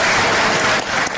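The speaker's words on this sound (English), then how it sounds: "You guys can keep applauding." Sustained audience applause at a speech, a dense, loud clapping from a crowd filling the whole short stretch without pause.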